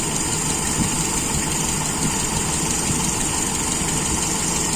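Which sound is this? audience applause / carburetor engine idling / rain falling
carburetor engine idling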